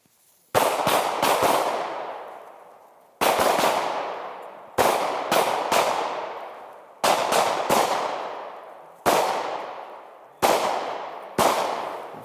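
Pistol gunshots during a shooting-while-moving drill on an outdoor range, fired in quick pairs and triplets with sharp reports that ring out and decay between groups, with no talk.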